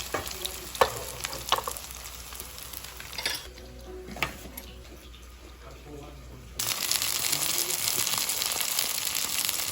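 Kimchi pancake frying in a pan on a rainy day, a soft sizzle with scraping and clinks, then a louder steady hiss near the end, with faint background voices.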